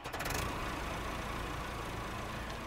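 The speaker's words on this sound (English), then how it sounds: "Move the tractor." Tractor engine in the ranching video game Ranch Simulator, a steady low idling rumble with a faint knocking texture, moderately quiet and continuous throughout with no talking.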